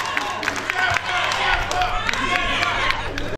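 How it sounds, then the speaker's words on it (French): Lively audience applause and cheering at a debate event in a hall, dense clapping with crowd voices, sustained and fairly loud before cutting off abruptly. "Applaudissez pour vous"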